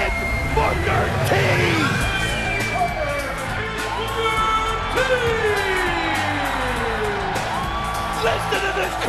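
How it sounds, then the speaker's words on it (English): A large wrestling-event crowd roars and cheers continuously, loud and sustained, while a voice shouts excitedly over the noise. "Listen to this crowd!"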